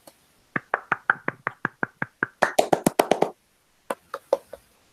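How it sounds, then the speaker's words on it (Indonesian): A class claps for a student named Denny, giving a short burst of sharp hand claps that swells into a dense flurry, pauses, then ends with a few scattered final claps. "Kita kasih tepuk tangan dulu ya buat Denny yang udah ingat pelajaran sebelumnya."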